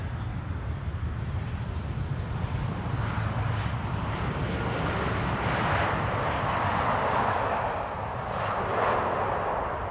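KLM Boeing 777 airliner at Amsterdam Schiphol Airport, giving off a continuous jet engine rumble at moderate distance that swells slightly in the middle and stays fairly faint and steady, with no talking.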